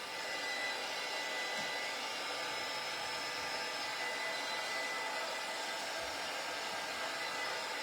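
A hair dryer blows steadily and loudly at close range, drying a fall shelf sitter craft in one unbroken whooshing roar with no speech.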